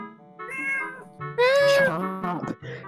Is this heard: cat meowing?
yes